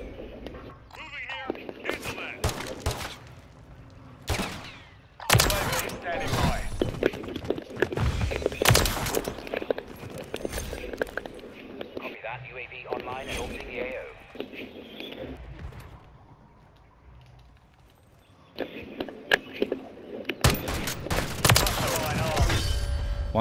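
Rapid gunfire from a Call of Duty match, single-shot weapon bursts cracking in quick repeated volleys, loud and close, with players talking over the shooting between exchanges.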